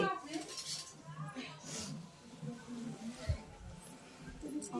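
Spoons and cutlery clink against dishes at a home gathering, with a handful of light metallic taps and rattles scattered through the moment under ongoing conversation nearby.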